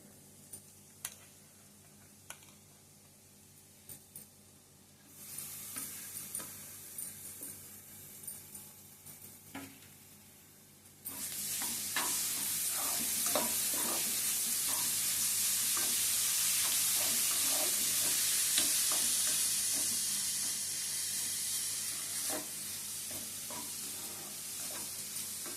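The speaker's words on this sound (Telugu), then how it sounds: "ఉల్లిపాయ బాగా వేగాలి" Onions fry in a pan with scattered stirring clicks at first, then a loud, continuous sizzle swells up and holds, with the spoon still scraping and tapping under it.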